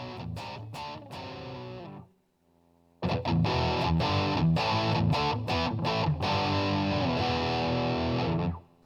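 A heavily distorted electric guitar played through an amp-less effects preset chugs loud chords, stops for a moment, then resumes with sustained, dense riffing.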